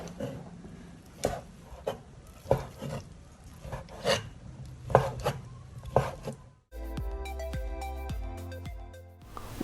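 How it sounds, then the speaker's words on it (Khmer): Mushrooms being cut into thin slices with a knife, evenly spaced crisp chops on a board about once a second, close up, before music takes over near the end. "Cut the mushrooms into thin slices."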